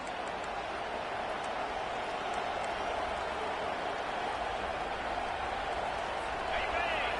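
A stadium crowd in a college football video game, Ohio State against Northwestern, gives off a constant roar of broad cheering under a commentator's voice.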